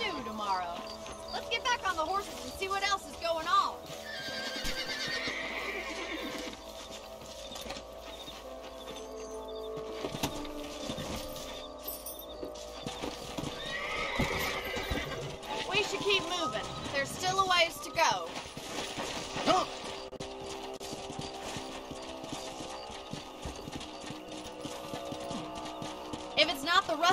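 Horse hooves clip-clop steadily with an occasional neigh in a Red Dead Redemption western ranch scene, mixed under game music and a voice talking throughout.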